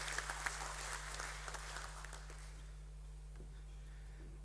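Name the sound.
audience applause welcoming the chairman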